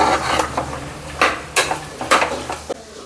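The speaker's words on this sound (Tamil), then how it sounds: "எல்லாம் ஒரு நிமிஷம் மசாலாவை போட்டு வதக்கி விட்டு" Masala spices being sautéed in a pan, with a low sizzle broken by repeated scraping strokes and clinks of a spoon against the metal, close and fairly loud.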